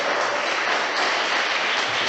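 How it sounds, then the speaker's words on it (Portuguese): A church congregation claps together during a worship service, a dense, steady wash of applause that stays close and even for the whole stretch. "Dê uma salva de palmas para Jesus bem alegre."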